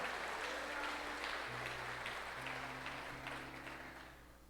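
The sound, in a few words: church congregation applauding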